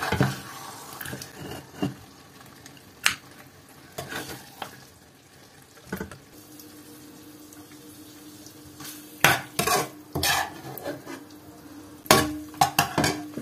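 Marinated mutton is shifted from a pan into a pressure cooker with irregular scrapes, knocks and clatters of utensils on metal cookware, some sharp and close, separated by quieter stretches with a faint sizzle.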